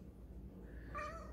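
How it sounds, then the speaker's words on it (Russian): A domestic cat gives one faint, short meow near the end, heard from some distance over a quiet indoor room. "Что ты мяукаешь вовсю?"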